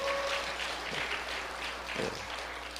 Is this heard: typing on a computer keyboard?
no